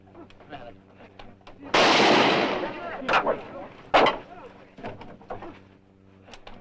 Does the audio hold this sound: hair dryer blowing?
no